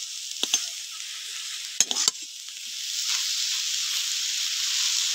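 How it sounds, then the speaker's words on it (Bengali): Susni shak greens with catla fish roe stir-fried in a pan: a steady close sizzle and hiss throughout, with a few sharp spatula scrapes and clinks near the start. "এবার এইভাবে নেড়ে ছেড়ে ভাজা করে নিতে হবে"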